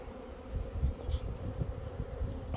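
Honey bees hum steadily around a 12-frame hive with a honey super, a dense, continuous low buzz close by with no talking.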